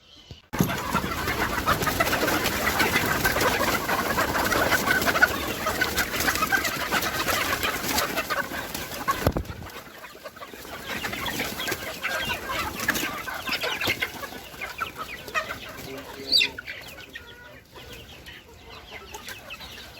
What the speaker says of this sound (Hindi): तो मुर्गियों को बाहर निकालते हैं।